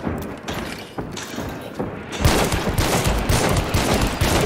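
A rapid burst of loud gunfire in a shooter video game, aimed at a Scrap Pick, erupting after a quieter stretch of scattered thuds and continuing as a dense, shredding volley.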